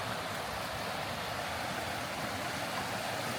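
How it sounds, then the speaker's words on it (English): A small waterfall beside a footbridge on the Appalachian Trail rushes in a constant, even roar of falling water, close by and unbroken, with no voices. "Coming up on our first little bridge and waterfall."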